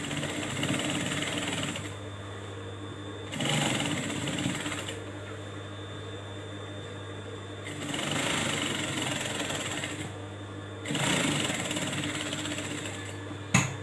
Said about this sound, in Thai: เย็บสองแถวเหมือนกันนะคะ กลับไปกลับมาเนาะ